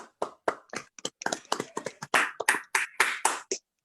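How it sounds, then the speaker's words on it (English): Applause after a business presentation, a small group's sparse, distinct claps with clear gaps between them, close and sharp, lasting a few seconds. "Please give them a big round of applause"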